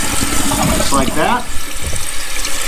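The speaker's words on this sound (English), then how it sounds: "we can go ahead and we can flush the toilet" A toilet with a newly replaced Fluidmaster fill valve flushes with a loud rush of water, then settles into the hiss of the tank refilling, with a person talking over it.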